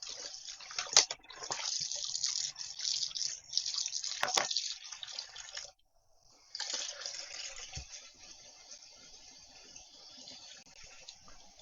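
Water running from a kitchen tap onto a boiled egg to cool it, a steady hissing stream that stops briefly midway and then resumes, close and alone.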